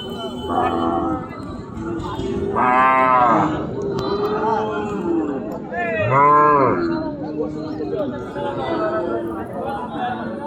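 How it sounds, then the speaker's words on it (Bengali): Cattle at a busy cow market low repeatedly, including Friesian and small local cows, several long moos close by with crowd chatter and people talking throughout. "আর এই হচ্ছে দেশি গরু"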